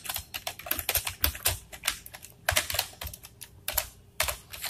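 Computer keyboard typing while program code is entered, a close run of quick uneven keystrokes in bursts with brief pauses, loud and alone with no talk.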